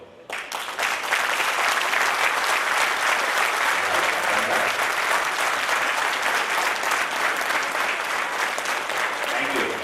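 Sustained applause from an audience at a district cabinet installation ceremony, dense steady clapping rising quickly and continuing loud for nearly ten seconds.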